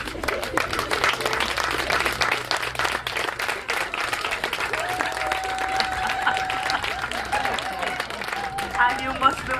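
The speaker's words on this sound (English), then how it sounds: "you must be wondering why the students are applauding" Students applaud at the unveiling of a bust of G.C. Foster: sustained, dense clapping from a crowd, with voices and some tonal sounds over it throughout.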